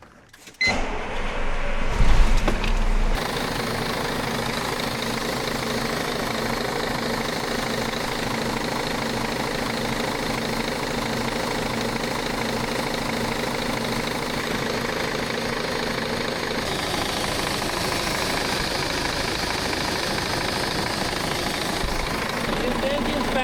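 A wheel loader's diesel engine idles close by for most of the clip, a low continuous rumble, with a brief louder clatter and movement at the start before settling.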